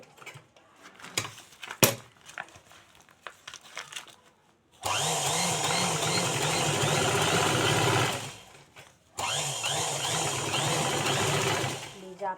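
A sewing machine stitching a handbag made from a plastic sack runs in two long, steady whirring stretches after scattered handling noises and a pause, loud and close.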